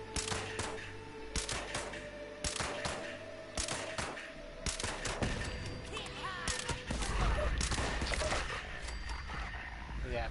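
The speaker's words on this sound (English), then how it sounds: "Oh, machine gun turret." A machine gun turret in Fallout 76 fires rapid bursts of close, sharp shots with thuds and impacts, while a voice talks over the fire.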